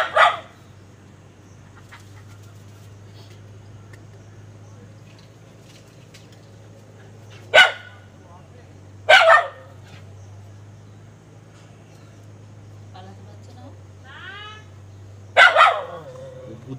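Dogs barking at a monkey give short, loud barks in sparse bursts, one at the start, a pair in the middle and another near the end, with a faint whine between them over steady low background hum.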